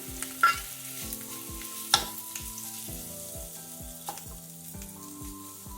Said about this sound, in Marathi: खवा घालते गॅस कमी ठेवायचा मंद आचेवर खवा भाजून घेते